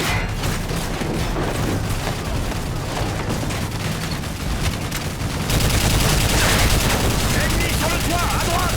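Heavy .50 caliber covering fire in Call of Duty: Modern Warfare 3 rattles in dense, loud bursts over battle noise, growing louder partway through, with voices speaking amid the gunfire.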